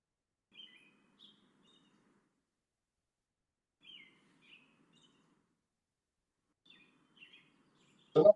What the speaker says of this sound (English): If you have background noises like birds chirping.